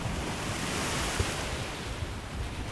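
Waves on Lake Michigan wash against the shore in Chicago on a gusty fall day, a steady close roar of surf mixed with wind buffeting the microphone, with no voices.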